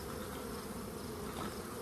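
Bees from the middle of a hive's brood chamber make a dense, continuous buzzing drone, fairly faint but steady throughout with no voices.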